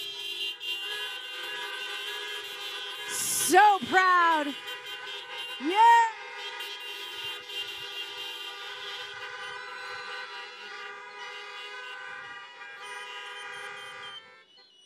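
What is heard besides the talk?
car horns honking at drive-thru graduation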